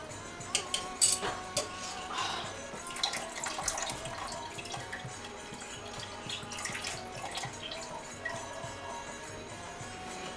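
Curdled milk mixture for homemade mozzarella poured into a strainer over a bowl, whey splashing and dripping with soft trickles and a few clinks at the start, continuing quietly at close range.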